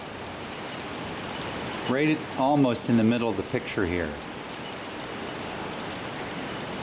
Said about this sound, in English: you can see sheets of rain coming down